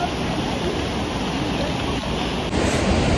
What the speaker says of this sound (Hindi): पानी की आवाज़ पूरे टाइम सुनाई देगी